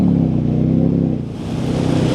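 A Harley-Davidson Freewheeler trike's engine revs as it accelerates, a loud, close, rumbling throb that dips briefly and then climbs again.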